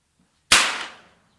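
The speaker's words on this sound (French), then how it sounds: "Le claquement de l'amorce est assez agréable" A single sharp crack of a percussion cap firing on an Ardesa Traditions Hawken .50 caliber muzzleloader rifle at a shooting club, close and loud, with a short decaying ring after it and silence around.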